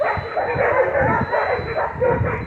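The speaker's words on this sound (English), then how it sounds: "so don't mind the dogs. I'm at a dog park over there." Dogs at a dog park bark and yip in quick, uneven bursts, moderately close and steady throughout, with a faint hum of outdoor background behind them.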